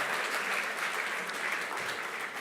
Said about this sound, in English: let's give another warm round of applause, please, to CJ Emeritus Professor Willie Mutunga